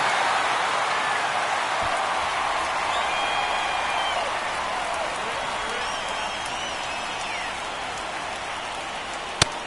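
Crowd noise in a baseball stadium during a ninth-inning playoff game in MLB The Show 24, a steady broad roar from the stands holding throughout, with a brief sharp knock near the end.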